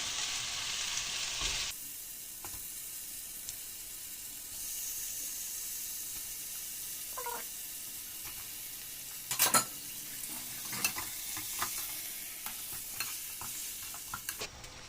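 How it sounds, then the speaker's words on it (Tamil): Chicken pieces sizzle gently in a pan as masala is stirred through them, a soft continuous frying hiss punctuated by scraping and clinks of the spoon, close and quiet. "ஓகே சிக்கனு மசாலா எல்லாமே நல்லா மிக்ஸ் பண்ணியாச்சு"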